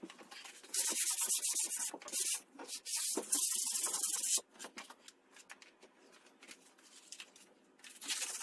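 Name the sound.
sanding a wall during prep work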